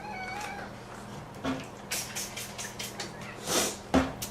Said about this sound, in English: My cat's screaming.